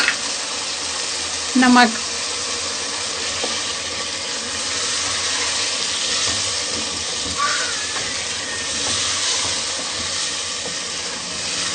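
Chicken pieces with red chili, coriander powder and turmeric fry in a pot, a continuous close sizzle and hiss with occasional stirring scrapes, while a person briefly speaks over it.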